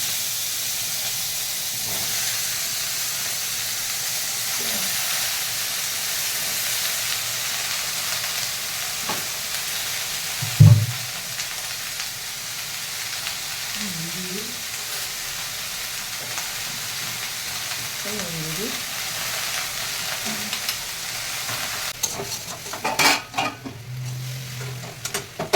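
Mixed vegetables fry in oil with five-spice seeds, a steady, moderate sizzle and hiss running throughout, broken by a few spatula scrapes and knocks against the pan, with a sharper clatter near the end.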